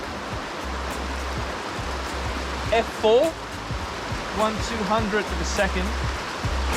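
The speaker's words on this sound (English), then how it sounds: "There's a really lovely creek running through and it winds off into the distance." A creek rushes steadily in the background while a voice speaks briefly over it, with a faint low hum coming and going.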